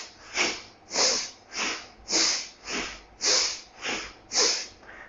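Rapid yoga breathing: eight sharp, even inhale-exhale breaths through the nose in a steady rhythm, close and clear, with no talking.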